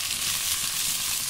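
Fish sizzling steadily on a hot tawa, a dense continuous frying hiss with no pauses, fairly loud and close.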